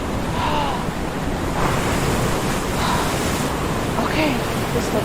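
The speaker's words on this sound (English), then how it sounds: "I can see the storm coming. Oh my gosh, the waves are going and everything." Stormy sea surf roars as a constant loud wash of breaking waves with wind noise, swelling in a few broad surges; faint voices are buried underneath.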